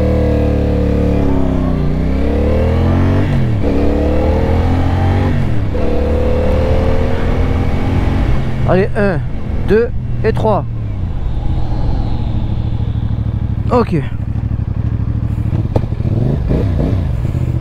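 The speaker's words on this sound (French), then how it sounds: "Allez, maintenant on va se tester le frein avant." A 2024 CFMOTO 450CL-C motorcycle accelerates through several rising gear pulls, then brakes hard with the front brake, the engine dropping to idle; a rider speaks briefly over the engine noise.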